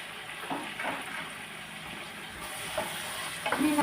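Chilli sauce and tomato sauce are stirred in a frying pan while cooking chilli chicken, giving a soft, continuous sizzle with faint scraping stirs and a few light clinks near the end.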